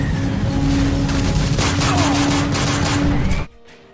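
Dense, continuous gunfire bursts in a Call of Duty video game scene, loud and sustained with booming undertones, cutting off abruptly near the end.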